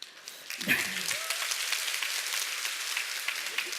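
Audience applause at a success-story talk, a steady, moderately distant patter of many hands that holds evenly throughout, with a brief voice near the start.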